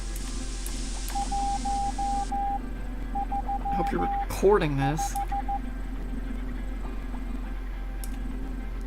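Short evenly spaced beeps of a Morse code signal in a video game play in bursts, steady and clear over a low hum, while someone speaks briefly.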